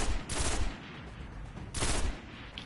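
Gunfire in the video game Destiny on PS4: two bursts of rapid shots about a second and a half apart, moderately loud, with a lower rumble between them and no talk.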